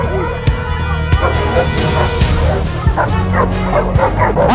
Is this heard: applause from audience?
no